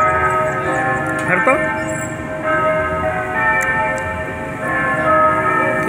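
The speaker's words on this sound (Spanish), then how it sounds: "están sonando las campanas de la iglesia de La Paila" Church bells of the La Paila church ring at six in the evening, a sustained resonant tolling with layered overtones that holds steady under a voice and nearby chatter.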